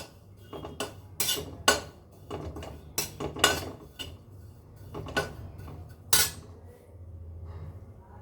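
Coconut being dry-roasted in a pan for sugar-free laddu, with a utensil scraping and clattering against the metal in irregular stirring strokes, close and moderately loud, with no talking.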